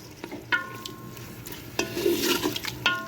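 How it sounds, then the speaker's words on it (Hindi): Meat sizzles and fries in a pan with garlic-ginger paste at moderate volume, with a utensil stirring and scraping against the metal now and then. "गोश्त हमारा अच्छे तरीके से भुन रहा है"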